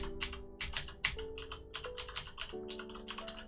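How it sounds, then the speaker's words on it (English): Rapid typing on a regular computer keyboard, with dense irregular key clacks close to the mic, some louder strikes mixed in, and a steady low tone running underneath. "if I were to use my normal keyboard you'd hear this"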